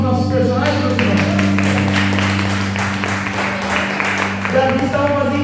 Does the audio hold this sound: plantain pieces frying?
no